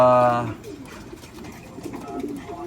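Low racing pigeon coos repeat softly over a murmur of background noise, with a brief harmonic tone at the start, at a loft trap.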